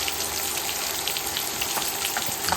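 Finely chopped large onion fries in a pan on an electric stove, a loud dense continuous sizzle with small crackles, close and with no speech over it.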